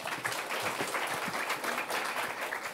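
Audience applause at a corporate engineering job talk as the next presenter is introduced, a continuous round of many people clapping at moderate volume for nearly three seconds, with no voices over it.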